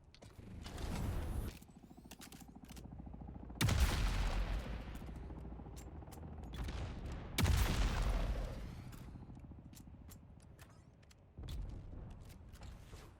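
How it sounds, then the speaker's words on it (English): A las gun fires at an enemy copter in a desert combat video game: loud bursts of gunfire and booms come in several waves, each decaying into rumbling mechanical noise. "We go to work on his copter with the las gun"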